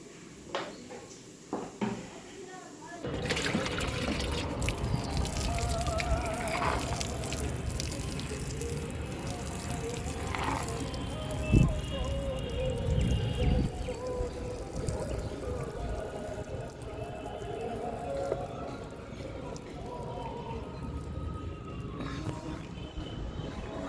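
Water pours steadily through an oversized hole punched in a homemade container, a continuous splashing rush lasting many seconds after a brief quieter start, close by.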